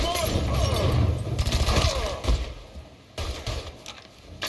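Gunfire rattles through a gunfight in Mafia 3, with dense bursts of shots and sharp cracks up close. Clattering impacts and a few quieter gaps break up the firing, and voices are heard among the shots.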